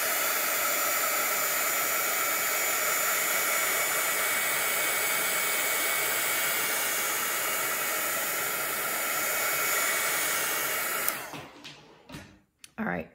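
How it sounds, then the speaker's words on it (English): A hair dryer drying a painting blows a loud, steady whooshing roar for about eleven seconds, then shuts off, leaving a few faint knocks and handling noises. "we're going to dry that first before I do this next part."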